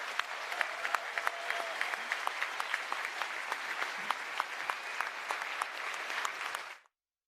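Sustained applause from a large audience at a WHU graduation ceremony for the first Master in International Business class, dense, even clapping with sharp individual claps popping out, continuing for several seconds before cutting off abruptly.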